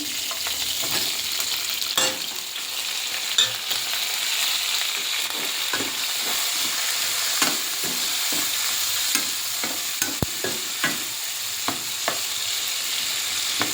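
Ingredients dropped into hot oil in a pan for a coriander chutney sizzle and crackle steadily, close and alone, with occasional sharp pops and the clink of stirring throughout.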